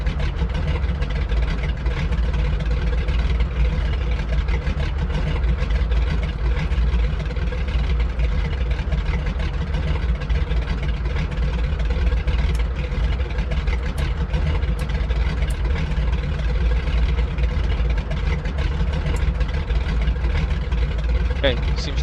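A flying boat's engine running at raised RPM in a flight simulator, a steady, loud mid-pitched drone with no change in pace, heard throughout.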